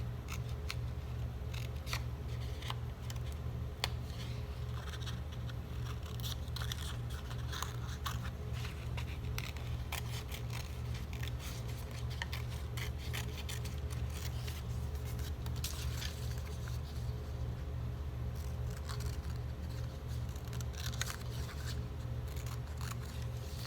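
A Silhouette cutting machine works through a cut, giving a steady motor hum with rapid ticking and scraping blade sounds that run continuously for over twenty seconds, with no voices.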